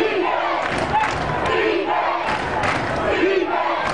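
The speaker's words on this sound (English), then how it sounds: "You can hear the cheers from the crowd" A stadium crowd at a college football bowl game roars and chants in swelling waves, loud and continuous with shouts rising above the general din.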